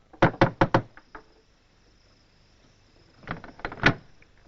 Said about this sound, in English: When we heard the knocks on the door, we were afraid it was the Gestapo.